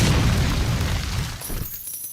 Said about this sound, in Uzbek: Yo'q, portlab ketding.